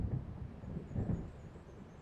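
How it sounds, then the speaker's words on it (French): Low rumbling thunder from an approaching storm over the lake in the video game Alan Wake, a continuous rolling growl with a faint high whistling wind above it. "On dirait qu'un orage approche"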